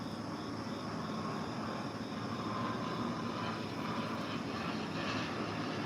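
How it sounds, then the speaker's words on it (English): An airplane flying overhead makes a steady, distant, rumbling drone that holds evenly throughout with no talking. "You guys hear the airplane?"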